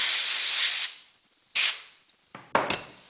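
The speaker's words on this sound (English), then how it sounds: "I'm using an air compressor with 60 pounds of air pressure. Blow out the excess wheel bore polish." Compressed air at 60 psi from an air compressor nozzle blowing polish out of a wheel bore: a loud sustained hiss, then a short sharp blast, followed by a couple of quick bursts.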